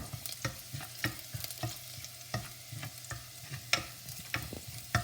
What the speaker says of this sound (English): Just saute them till ginger looks slightly golden brown.